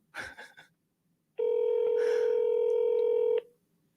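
A telephone tone plays as a number is dialed, a single steady electronic beep of about two seconds, loud and close, following a brief burst of voice.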